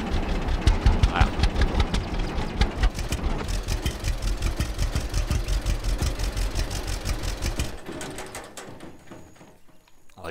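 A tractor engine idles in the farming simulator game Farmer's Dynasty on Xbox One X, its rapid even chugging pulses steady and fairly close for about eight seconds before cutting off into quieter background.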